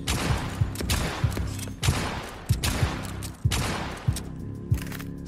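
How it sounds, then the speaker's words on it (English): A shotgun firing in the What Demons video game: about eight loud, evenly spaced blasts, each a sharp crack followed by a booming tail, with no talking. "Shotgun time."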